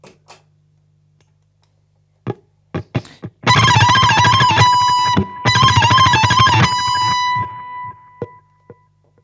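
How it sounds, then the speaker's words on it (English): Ukulele tremolo picking played through effects, a bright sustained buzzy wash of rapid repeated notes with a steady held pitch, in two long bursts after a few sharp plucks, close and loud with no talking. "We use one more time the tremolo picking technique, so with effects turned on"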